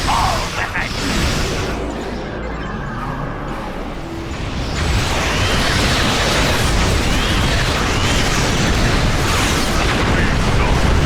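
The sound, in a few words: starship weapons fire and explosions in Star Trek Online video game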